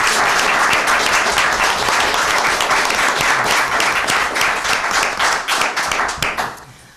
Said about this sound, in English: I'd like to ask the audience to give the candidates a round of applause for this evening.